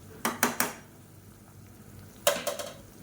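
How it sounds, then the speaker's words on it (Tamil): Soaked rice tipped into boiling water in a cooking pot for carrot biryani: three quick clattering pours close together, a quiet gap, then another burst of rattling grains and a softer follow-up, all fairly faint and close. "இப்போ தண்ணி நல்லா கொதிச்சிருச்சு ஊற வச்சுருந்த அரிசியை சேர்த்துக்கலாம்"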